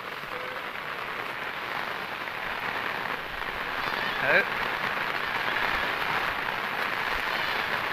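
Monsoon rain falls steadily in a Bengal village, a dense, even hiss of drops that stays close and constant, with a faint voice in the background.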